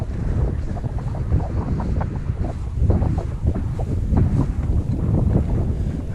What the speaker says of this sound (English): Quite breezy though